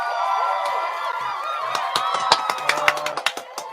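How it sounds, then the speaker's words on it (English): A New Year's Eve crowd cheering and shouting, with a sustained loud roar broken by sharp bangs and pops toward the end. "The crowd go wild."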